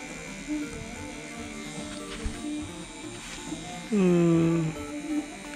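A tattoo machine set to 9.5 volts buzzes with a steady electric hum, joined near the end by a louder, brief rising whine, with faint voices in the background.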